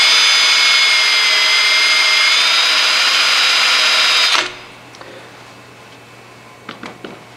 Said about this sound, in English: So it's going to start cutting, and then once the cutting slows to a stop, that means I'm done.